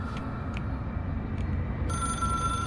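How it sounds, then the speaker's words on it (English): A telephone rings inside the video game Control, a sharp ringing tone that starts partway through and carries steadily over a low rumbling ambience. "It is a phone."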